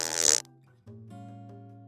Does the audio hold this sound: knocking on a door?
no